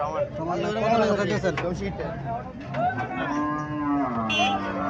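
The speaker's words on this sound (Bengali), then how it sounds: "এখানে একটা গাভী দেখা যাচ্ছে" A cow at a Comilla cattle market lets out long, drawn-out moos, loud and close, while people talk nearby and market chatter continues underneath.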